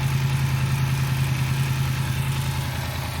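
Steady motorcycle engine running at a low, even throb with a constant pitch and no clear rise, close and fairly loud, with no voices.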